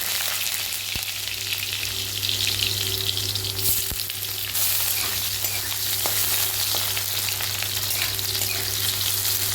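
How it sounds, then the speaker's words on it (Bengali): Potatoes frying in hot mustard oil for a yam curry give a steady, loud, dense sizzle with a low hum underneath and a few faint clicks, with no talking. "এরপরে আমি আলুটা আগে ভেজে নেব"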